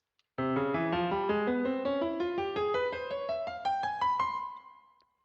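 A bright synth plays a quick run of stepping notes in an Arabic scale, climbing steadily upward, alone and clear, ending on a held tone that fades.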